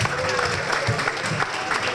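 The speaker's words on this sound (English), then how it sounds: "I think that deserves a very big round of applause" Steady applause from a crowd, dense clapping filling the whole stretch at moderate loudness with no pauses.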